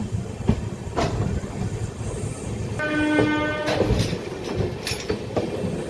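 A local passenger train running from Vijayawada to Machilipatnam rumbles past loudly with steady wheel clatter, and a sustained horn blast sounds in the middle.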